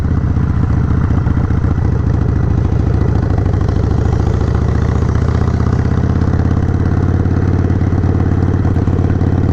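A motorcycle fitted with a Hammer Performance 1250 kit, still in break-in, rides slow circles on a training range; its engine thrums steadily and loud for the whole stretch with a low, even mechanical clatter and no talk.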